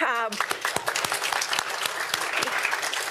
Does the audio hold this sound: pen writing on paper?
no